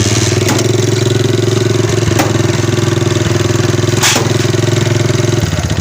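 Honda CD 70 motorcycle engine running after a kick start, a loud, close, steady single-cylinder idle with a fast even putter and a few sharp clicks.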